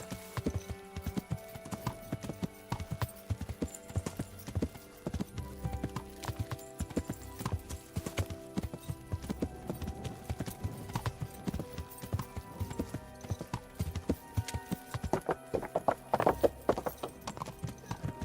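A horse's hooves clip-clop steadily on the ground in Kingdom Come: Deliverance as the rider heads toward the tournament combat arena, with the rhythmic footfalls continuing throughout and an occasional whinny.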